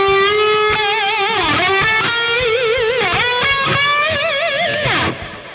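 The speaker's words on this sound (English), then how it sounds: "it's basically just taking the string and you're raising the pitch of it by raising the tension" An electric guitar plays notes bent up and down in pitch, with wavering vibrato on held bends, several phrases in a row, close and clear with no talking.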